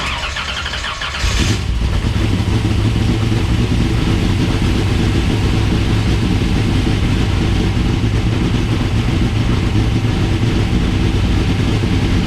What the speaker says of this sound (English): I'm gonna go ahead and fire it off one more time, give it a little bit of throttle